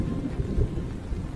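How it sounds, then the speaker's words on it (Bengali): A heavy downpour drums steadily while deep thunder rumbles continuously through a dark, stormy morning, loud and close, with no voices. "ঘন ঘন মেঘের গর্জন আর কালো আকাশ জানান দিচ্ছে"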